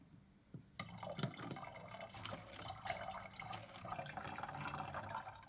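Water is poured from one bottle into another, a faint continuous splashing and gurgling trickle that starts abruptly and runs steadily for several seconds, close by and quiet.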